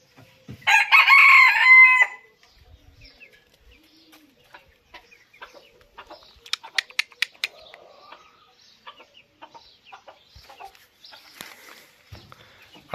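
A rooster crows loudly once near the start, then chickens cluck and chirp faintly in scattered bursts around a poultry yard with other hens.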